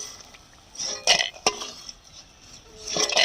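Fried lentil dumplings are lifted from a frying pan with a metal utensil, giving a few sharp scraping clinks and clatters with quiet gaps between them, close and without talk.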